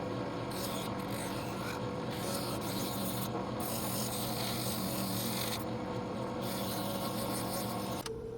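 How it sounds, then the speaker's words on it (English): Hand sanding of a wooden spatula blank, a continuous close, even rasping scrub with short rhythmic strokes and brief breaks, steady and loud throughout with no talk. "you're going to be sanding this probably for quite a while and producing a lot of dust"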